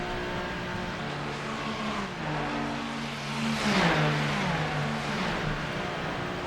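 NASCAR race cars in an online racing video game mixing stock cars with circuit racing: a steady engine drone that swells into a louder revving roar midway, over background music.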